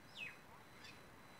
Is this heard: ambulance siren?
no